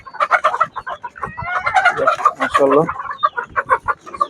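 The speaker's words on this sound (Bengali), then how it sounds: "এখানে ফার্মি মুরগি আছে অনেকগুলো" Many farm chickens kept in vertical stacked cages cluck busily and close by, with overlapping calls and squawks throughout.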